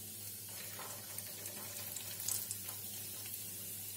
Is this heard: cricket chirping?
no